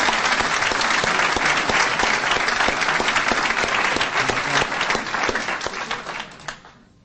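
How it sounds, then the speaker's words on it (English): At a school board meeting, a room full of people applauds the athletes, loud and sustained, then tapering off into a few last claps before it falls quiet. "Let's give a round of applause for our athletes."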